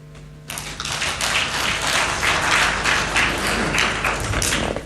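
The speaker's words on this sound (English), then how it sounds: "Another round of applause, please" A conference audience applauding, with dense, steady clapping that starts abruptly after a quiet moment and continues strongly for several seconds.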